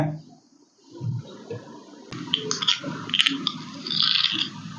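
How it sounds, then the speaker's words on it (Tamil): Three tumblers of water poured into drumstick leaf soup in a pan, a splashing, gurgling pour that swells and continues for a few seconds after a quieter start. "மூணு டம்ளர் தண்ணி ஊற்றி அப்படியே ஒரு அஞ்சு நிமிஷம் நல்லா கொதிக்க வச்சுருங்க"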